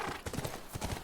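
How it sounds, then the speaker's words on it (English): Horse hooves clip-clop steadily in The Last of Us, a quick run of close, loud hoofbeats heard alone with no talking. "Look, by the ranch. That's our horse."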